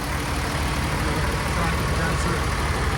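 A heavy diesel engine in a Kenworth W990 truck with an MX13 at 510hp rumbles steadily up close, a dense low drone with broadband noise throughout and no break.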